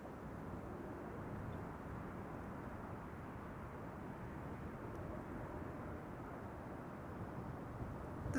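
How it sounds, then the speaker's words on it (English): A United Boeing 767 airliner moves on the ground at Amsterdam Schiphol Airport, its jet engines giving a steady, faint, distant rumble that holds evenly throughout, with no voices. "The third United 767 is on the move, coming this way"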